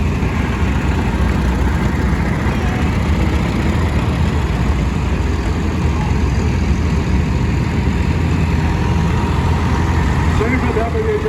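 A Super WD9 tractor, imported from Canada, idling at an outdoor tractor rally with a steady low rumble that holds without a break, heard up close and loud.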